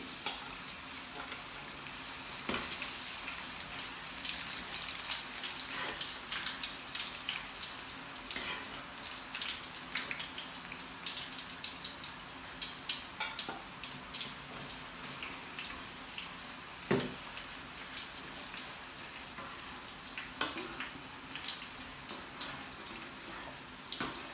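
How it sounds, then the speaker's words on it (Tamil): Pieces of cassava sizzle and crackle steadily in hot oil in a home kitchen, with a soft, continuous bubbling hiss and occasional louder pops throughout. "இப்போ நான் அதுக்குள்ளே மரவள்ளிக்கிழங்கு போட போகிறேன்."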